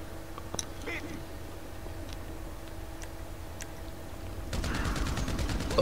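Gunfire from the GTA Online video game rings out in a gang shootout against The Lost MC. Scattered distant shots crack over game ambience, then a dense rapid burst of automatic fire comes in near the end.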